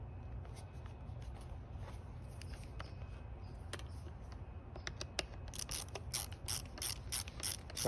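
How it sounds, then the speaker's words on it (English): Vessel rotating ratchet screwdriver from a Japanese maker, clicking through a series of crisp pawl ticks that start sparse and grow into a faster, louder burst of ratcheting near the end, over low background rumble. "So I have this rotating screwdriver in here."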